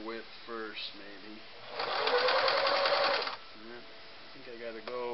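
A Singer Model 353 Genie sewing machine stitches a satin stitch in one steady buzzing burst of about a second and a half, with someone talking quietly before and after.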